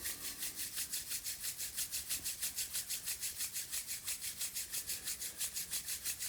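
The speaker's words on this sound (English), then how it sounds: "Rub your hands together." Two palms rub briskly together in a steady back-and-forth rhythm, each stroke giving a dry, papery swish at an even tempo, close and alone without any talk.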